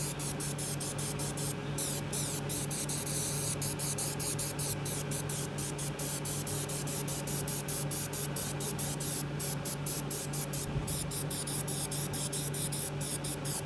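Spray paint hissing from an aerosol can onto a WORX cart during restoration, a continuous close hiss broken by brief rhythmic bursts as the nozzle is pressed.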